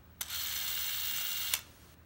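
The shutter and clockwork drive of a Revere Eight Model 88 8mm film camera run for just over a second, a steady close mechanical whirring buzz that starts and stops with brief clicks.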